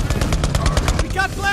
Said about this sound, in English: Watch out! Turrets!